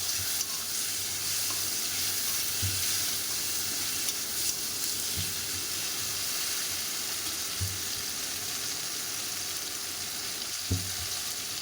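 Tomato and ginger paste fries in a pan with a steady sizzle, and a spoon stirs it with soft periodic scrapes. The sound is close but fairly quiet, and nobody speaks.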